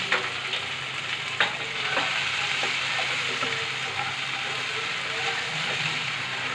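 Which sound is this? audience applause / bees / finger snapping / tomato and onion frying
tomato and onion frying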